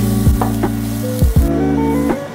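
Chicken pieces sizzle steadily on a hot ceramic-coated grill pan, a continuous loud frying hiss broken by a few soft knocks of utensils against the pan.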